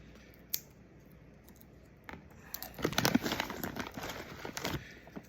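Pistachio shells cracked and peeled by hand, giving soft crinkly snaps and scratchy rustles, one sharp crack early then a denser cluster of close, quiet shell clicks in the second half.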